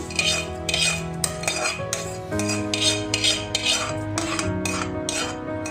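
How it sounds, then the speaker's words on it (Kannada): A spoon stirs cumin tempering into cooked moong dal in a pot for avalakki pongal, giving repeated scraping clinks of metal against the pot in a steady rhythm, close and fairly loud, with no talking. "ಈ ಬೆಂದಿರೋ ಹೆಸರು ಬೇಳೆಗೆ ಒಗ್ಗರಣೆನ ಸೇರಿಸ್ಕೊತಾ ಇದ್ದೀನಿ"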